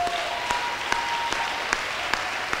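A church congregation applauding and cheering for Jesus, steady dense clapping from a crowd throughout, fairly loud and even.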